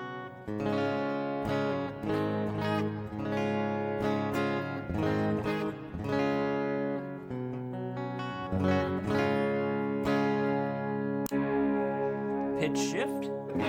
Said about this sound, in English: Here's the acoustic. This is the clean sound